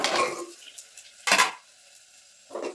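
Fried khasta goja pastries are stirred in sugar syrup, giving three separate metallic scrapes and clinks of a spoon against the pot with near silence between them.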